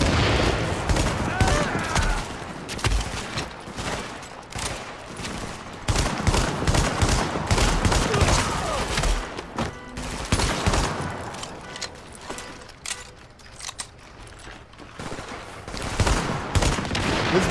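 Gunfire from the Tactical SASG 12 K shotgun in The Division video game, loud repeated blasts in irregular bursts mixed with other battle shooting, with brief quieter gaps between volleys.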